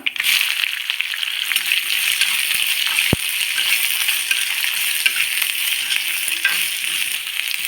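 Onions fry in hot oil with popped mustard seeds and cumin for a banana-flower stir-fry, making a steady, close crackling sizzle broken by a single sharp metallic click.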